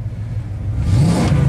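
A Ford big block engine, freshly rebuilt and running on cleaned, previously fouled spark plugs, idles close by and then revs up smoothly, holding a higher pitch.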